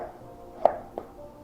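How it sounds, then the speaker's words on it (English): A knife chops through watermelon on a cutting board with two distinct sharp thunks, the first louder, against a faint background hum. "So we're just chopping up some watermelon."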